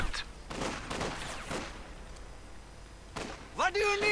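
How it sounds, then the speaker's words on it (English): Sniper rifle shots in a WWII strategy video game, heard as several sharp bursts spread across the clip among other battle noise, with a louder cluster of cracks near the end. "Sniper opening up."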